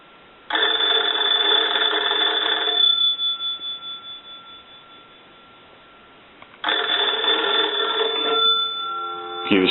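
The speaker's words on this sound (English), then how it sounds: "I'll go ahead and ring the telephone." A Kellogg wood wall telephone bell rings in two loud, steady bursts with a long silent gap between, the first dying away in a decaying ring, close and alone without talk.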